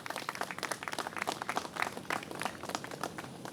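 A crowd applauds steadily for a group of government leaders at a New York City mayoral event, a dense patter of clapping held at an even level for a few seconds with no talk over it.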